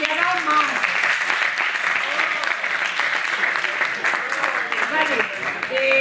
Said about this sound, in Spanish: Un aplauso a esta gente que ha dado más.